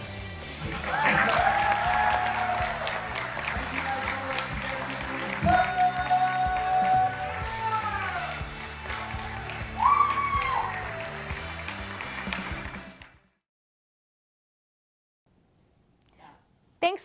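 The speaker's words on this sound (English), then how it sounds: "Everybody cheered and clapped as his film played and ended." Audience at a student film screening cheers and applauds, a dense, loud crowd roar with whoops and clapping sustained for about twelve seconds, then cutting off to near silence with a faint stir at the end.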